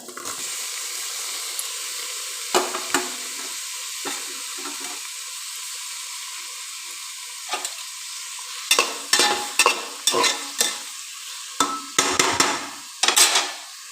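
Onion and tomato fry in a pan for a drumstick-leaf dal under a low, steady sizzle, broken by bursts of quick spoon scrapes that grow more frequent toward the end, close and clear.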